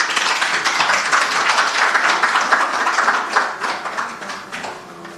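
Audience applause at a youth ambassador award ceremony in Jamaica, a loud sustained crowd clapping that holds steady and begins tapering off near the end.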